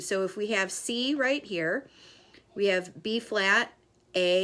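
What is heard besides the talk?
None of the usual background noises is heard.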